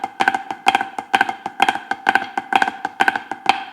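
Marching-style snare drum playing the cheese rudiment with the left-hand part added, a dense, steady run of rapid crisp strokes with regular flammed accents, loud and close, no voices.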